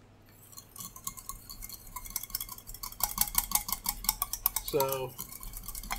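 A vinaigrette with a couple dashes of hot sauce is whisked or stirred in a bowl, giving a fast run of quiet clinking, scraping taps that builds in density. A voice speaks briefly near the start.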